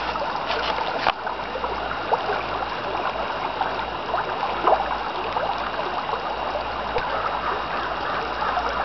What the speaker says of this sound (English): So here's the gurgling of the water.